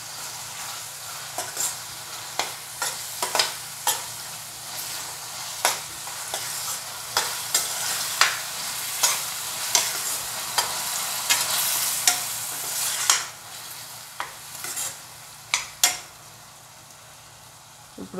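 Spinach fries in a pan with ginger paste and salt while a spoon stirs it, producing a steady soft sizzle marked by repeated sharp scraping taps of the utensil against the pan, close and with no voices.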